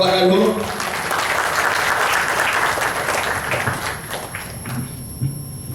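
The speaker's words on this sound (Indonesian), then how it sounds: "Beri tepuk tangan yang luar biasa sekali lagi" A crowd applauds loudly at a Prudential event at first, then the clapping thins out and fades, with a few scattered claps and thuds toward the end.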